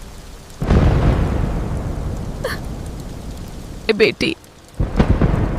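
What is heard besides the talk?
rain and thunder at night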